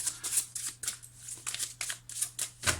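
Playing cards being shuffled, handled and drawn during a card reading: a steady run of crisp, papery flicks and snaps, close up and fairly loud, with no voice heard.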